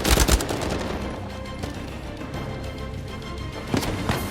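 Loud gunfire in Uncharted 4, with a burst of rapid shots at the start, a stretch of rumbling battle noise, then another short burst near the end, close and with no talk.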